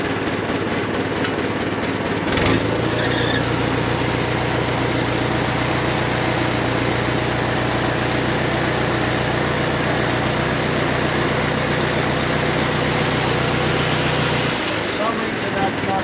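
A machine engine at a poultry farm with rolling egg belts holds a loud, steady drone under throttle. It rises briefly near the start and then runs level until it drops away near the end, with voices in the background.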